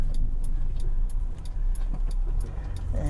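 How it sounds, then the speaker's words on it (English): A car's engine rises and falls in short revs as it slows under braking with rev-matched downshifts into third and then second gear. It sounds close and steady, with faint clicks above the engine and no speech. "I'm going to brake, get the car to slow down, rev match the 3rd, brake, rev match the 2nd"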